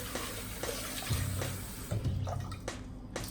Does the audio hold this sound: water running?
yes